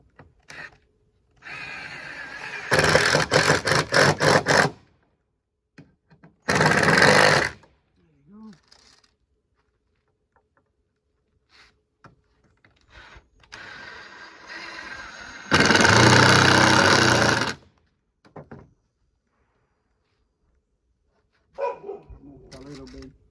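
A cordless drill drives screws into a wooden Adirondack chair in several separate loud whirring bursts, the longest near the middle, with pauses and quiet bumps between them and someone talking in the gaps.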